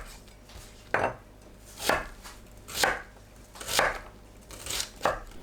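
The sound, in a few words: chopping onion into 1 cm pieces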